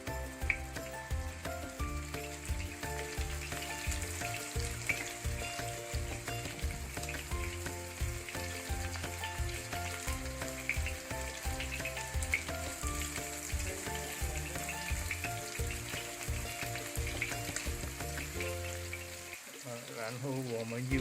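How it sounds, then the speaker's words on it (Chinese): Stuffed Hakka tofu puffs (yong tau foo) fry in a pan, giving a steady sizzle that runs through the whole stretch beneath continuous background music. "在那个酿入的面反过来煎一煎"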